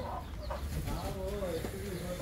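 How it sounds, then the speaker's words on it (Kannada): Chickens cluck and murmur nearby on a farm in short, uneven calls, with a steady outdoor background beneath. "ಕೋಳಿಗಳು"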